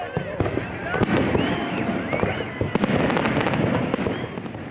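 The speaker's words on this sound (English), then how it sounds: "At precisely 10 p.m., the first firework was launched from the barge." Fireworks launched from a barge over Lake Orion at night, loud crackling bursts and sharp pops in rapid succession, with a crowd's voices mixed in.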